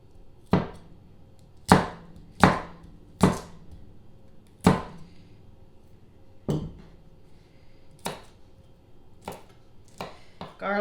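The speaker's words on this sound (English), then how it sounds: "Garlic is better using a smaller knife than a cleaver." Garlic cloves chopped with a small knife on a cutting board while making homemade chicken stock: about ten sharp, close knife strikes, irregularly spaced and quickening into a rapid cluster at the end, with no talking.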